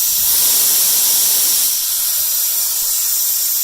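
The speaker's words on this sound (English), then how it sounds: "It gets quite loud if I open that valve all the way." Pressurized gas vents through an opened valve on a BRP-1 recovery pump under test, a loud, steady, close-up hiss that holds without a break and eases slightly partway through.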